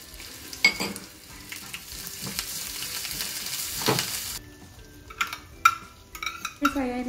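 Ginger and chilli frying in a pan give a steady low sizzle. Spoon scrapes and clinks of metal against the pan break in at intervals, close and moderately loud.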